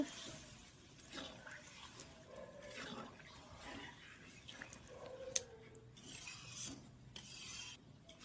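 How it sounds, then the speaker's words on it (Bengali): A spoon rasps and scrapes around a pot of potatoes and spices in hot water for fish curry, with repeated soft rubbing strokes and one sharp click, faint and without speech. "হালকা একটু নাড়িয়ে চাড়িয়ে নেব"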